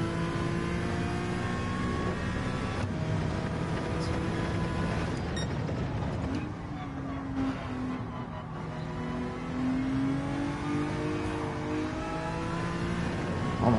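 Honda NSX race car engine in Gran Turismo 7, droning steadily and rising and falling in pitch as it revs and shifts on a wet track, loud and continuous with no talk.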